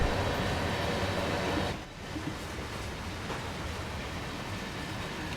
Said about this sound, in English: there's a freight train going by with a 185 at the head